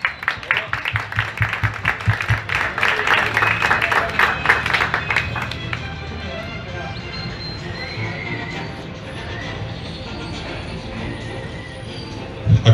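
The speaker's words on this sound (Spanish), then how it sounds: "Brindémosle un fuerte aplauso." Audience at an art exhibition in Tejupilco, 2023, applauding a painter. Dense clapping rattles for about six seconds, then fades into a low room murmur.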